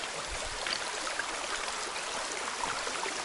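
A mountain river rushes and gurgles near Gelendzhik, a steady, close broadband wash of flowing water with no voices over it.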